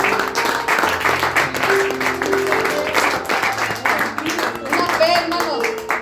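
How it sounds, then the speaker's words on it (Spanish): A church congregation claps during a Spanish-language sermon service, with rhythmic applause mixed with voices and sustained musical tones underneath, loud and continuous throughout. "¿Le puede dar un aplauso a Cristo?"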